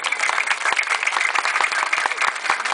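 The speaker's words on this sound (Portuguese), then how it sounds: "eu pediria uma salva de palmas para o Orlando Lourenço." Applause from an audience at the inauguration of a renovated bus terminal in Pacajus, Brazil, a dense, steady clapping that carries evenly for the whole stretch, with a few louder individual claps standing out.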